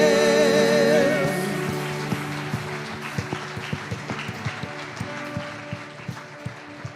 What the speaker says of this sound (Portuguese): A Ele seja o nosso aplauso.